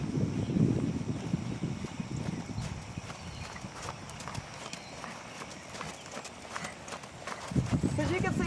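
A horse moves at a steady pace, its hooves clip-clopping in a regular rhythm under continuous conversation, with a low rumbling background.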